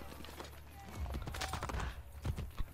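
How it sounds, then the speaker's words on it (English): A horse's hooves clip-clop through Renaissance streets in Assassin's Creed Brotherhood, a quick, fairly faint rhythmic trot under soft game ambience. "Clippity clop, clippity clop, clippity clop"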